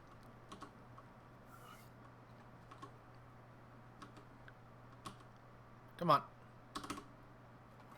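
Computer keyboard keys being tapped with a slightly buggy E key, producing light, scattered clicks at close range, with a brief spoken remark partway through.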